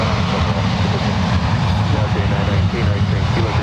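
At San Francisco International Airport, an airliner's engines give a steady, broad roar of thrust during takeoff, heard from a distance with air traffic control radio speech over the top.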